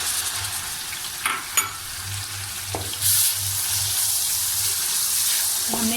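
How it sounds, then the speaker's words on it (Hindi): Tomatoes go into a frying pan of lightly browned food for a driver-hotel style daal maash, hissing in a steady broad sizzle with a few clanks and scrapes of stirring, close and continuous, with no talk. "अब मैं इसके अंदर ये टमाटर शामिल कर दूंगी।"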